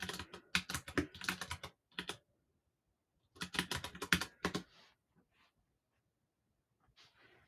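Fingers type a search on a computer keyboard, two close bursts of quick, clattering keystrokes, then a few scattered taps after a pause.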